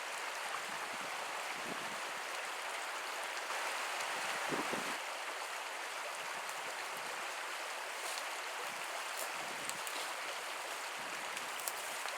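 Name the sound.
small stream flowing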